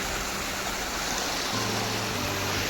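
Water flowing steadily into a village pond, a continuous broad rushing wash heard close by and unchanging in level, with no voices.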